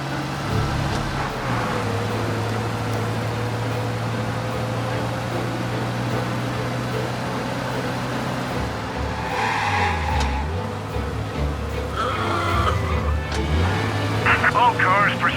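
A 1930s-era car drives steadily in Mafia Definitive Edition, its engine drone holding an even pitch with a few shifts in tone, while voices talk over it.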